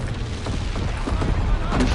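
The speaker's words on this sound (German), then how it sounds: "alles explodiert, alles explodiert, alles explodiert." Explosions in the WWII shooter Call of Duty: WWII, a dense continuous rumble of blasts and thumps layered with game noise and a voice talking over it.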